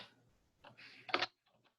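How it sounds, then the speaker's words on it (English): A computer keyboard is typed on in a few faint, scattered clicks and short bursts of keystrokes, quiet and close, with no voices. "And I can start typing."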